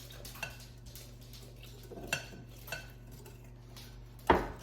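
Blackberry buckle batter being mixed from milk, butter and flour in a bowl: a few soft scraping strokes and light clinks of a utensil against the dish over a steady low kitchen hum, with no talk.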